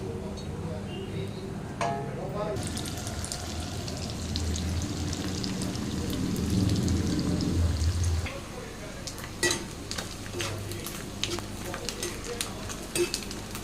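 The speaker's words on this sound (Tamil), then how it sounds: "இதை வந்து ஆயிலில் சேர்த்து கொஞ்சம் கொஞ்சமாக சேர்த்து நல்லா பொரித்து எடுத்துக்கலாம்." Marinated chicken pieces frying in hot oil give a steady close sizzle and crackle with occasional stirring clatter, continuing throughout, with a voice speaking over part of it.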